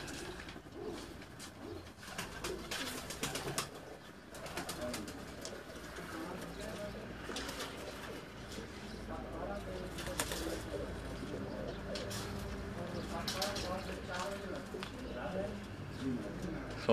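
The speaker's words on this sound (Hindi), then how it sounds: "ये सोना भाई के हाथ में मैं आपको एक कबूतर दिखा रहा हूँ" Pigeons coo in soft repeated low phrases close by while people talk over them in an outdoor setting, with occasional rustles and brief chirps.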